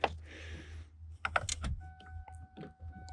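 Starter solenoid of a 1993 Ford Mustang clicks a few times in short, sharp bursts amid light clattering handling noises and a faint steady tone, close and quiet, with no talk.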